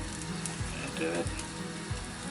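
An omelette fries in a pan with a steady, close sizzle. Faint background noise sits under it, and a couple of soft low bumps break the sizzle.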